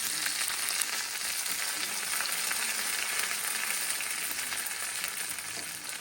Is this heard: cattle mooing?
no